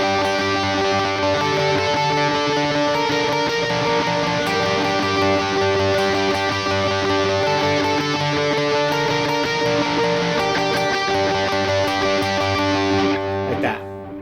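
Distorted electric guitar plays a slow opening riff, loud and steady with sustained chords throughout, ending abruptly near the end.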